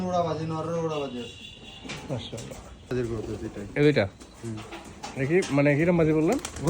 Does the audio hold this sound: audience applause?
no